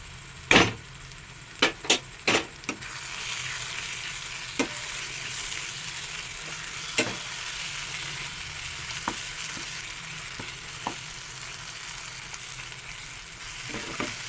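Roasted eggplant mash frying in a pan while being stirred, with a continuous soft sizzle and repeated sharp scraping clicks of a utensil, clustered early and then spaced out more sparsely.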